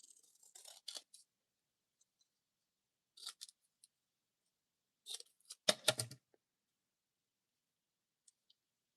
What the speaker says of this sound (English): And we can trim it up even a little bit more.